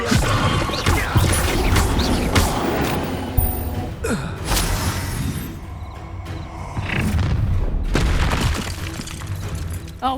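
Incendio fire spell cast in the video game Hogwarts Legacy, a dense crackling whoosh of flame with booming impacts and bursts, loud and continuous, mixed with grunts and gasps from characters.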